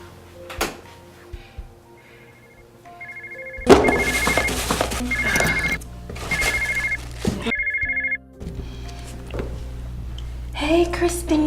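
A telephone rings repeatedly while a three-way call is being placed, fairly loud bursts of ringing separated by short gaps, with indoor handling noise and voices around it.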